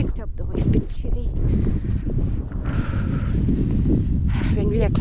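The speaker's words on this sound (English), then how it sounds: "The wind has picked up though, it's a bit chilly." Wind gusts across an exposed hill in Yorkshire, buffeting the microphone in a continuous rough roar while a person talks over it.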